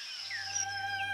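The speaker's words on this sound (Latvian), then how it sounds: "putnu dziedāšana" Birds sing in short, clear chirps and sliding whistles, several overlapping calls close by over a steady low hum.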